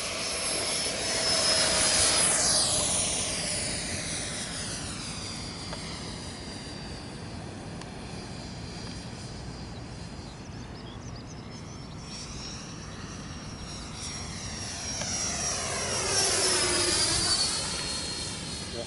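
An F-104 jet aircraft on its maiden flight makes a high, whining roar that swells as it passes, fades to a steady distant drone, then returns with another loud sweeping pass.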